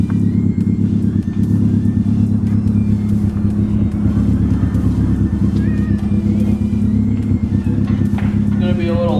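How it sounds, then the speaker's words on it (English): A loud air compressor runs steadily up close, its constant motor rumble droning while it fills with air to top up the tires on a rusty Hyundai Accent. "now I'm gonna have to fire up the air compressor and put some air in these tires"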